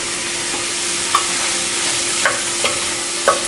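Finely diced mushrooms for vegetarian ramen are sautéed in a pan with a loud, continuous sizzle, with occasional light clicks of a utensil stirring through them.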